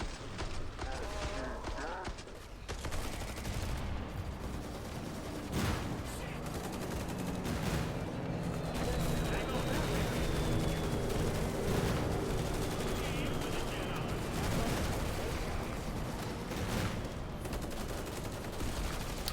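Tommy gun fire in the Killing Floor 2 video game: dense, sustained bursts of automatic shots with clattering action noise, loud and close throughout, with occasional voices mixed in.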